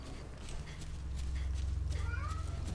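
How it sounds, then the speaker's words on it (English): A cat in the video game Resident Evil Revelations 2 gives a couple of short meows over a low droning game ambience, moderately close, with no talking. "Shut up, cat."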